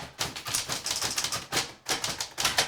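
Rapid clacking of typewriter keys, several machines struck in a dense, irregular rhythm with brief pauses, loud and close, as played by a typewriter orchestra.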